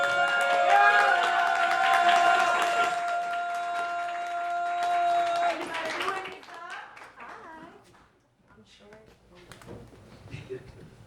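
Warm applause from the audience at a poetry slam, steady clapping for several seconds that fades out into quieter sounds and a voice beginning to speak.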